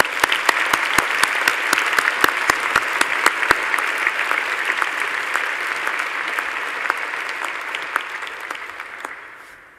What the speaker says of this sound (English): Please join me in a round of applause to all the graduates.